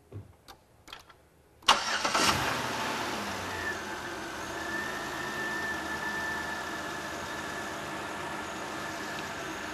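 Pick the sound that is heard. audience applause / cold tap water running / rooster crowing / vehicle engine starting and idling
vehicle engine starting and idling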